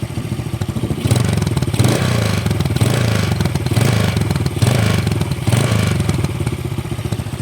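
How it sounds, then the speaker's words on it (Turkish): Up close, a Mondial SFC motorcycle engine is revved several times, its roar rising and falling in repeated bursts over a clattering idle. "Şimdi ufaktan bir gaz vereceğim."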